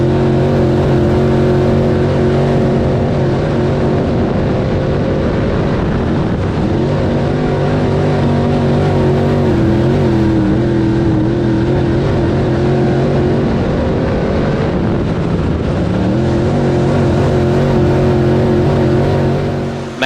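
Dirt-track race cars at Swainsboro Raceway roar past with loud, sustained engine drone, rising and falling in pitch as several cars race close by.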